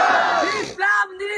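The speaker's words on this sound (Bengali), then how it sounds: "এ মাঝখান থেকে একজন তাকবীর দেন দেখি, স্লোগান দেন" A crowd at a religious gathering answers with a loud takbir chant, many voices shouting together in a sustained burst followed by shorter repeated calls.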